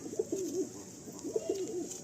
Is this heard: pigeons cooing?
yes